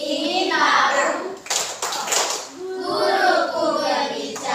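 A class of fifth-grade children in an Indonesian maths lesson performs a rhythmic concentration clap, with quick bursts of clapping set between chanted words as the group speaks together in unison.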